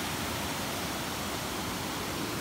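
A small waterfall on a river spills with a constant, even roar, heard from nearby with no voices over it.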